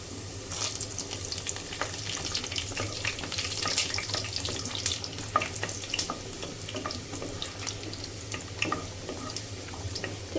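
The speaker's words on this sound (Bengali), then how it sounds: "রসুনটা আমি লাল লাল করে ভেজে নেবো। দিয়ে দেবো শুকনো মরিচ," Garlic and dried chilies fry in oil over a low flame for a chicken pickle, giving a steady close crackling sizzle with scattered sharper pops throughout and no voices.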